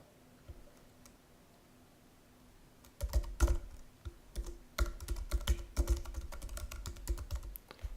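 Computer keyboard typing a serial number into a software activation dialog, with bursts of quick clicking keystrokes starting a few seconds in after a quiet stretch, close and moderately loud with no talking.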